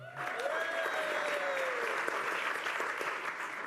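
Sustained audience applause at a mayoral town hall, loud and steady throughout with dense clapping and faint crowd voices and whistles over it.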